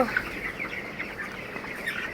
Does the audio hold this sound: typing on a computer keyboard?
no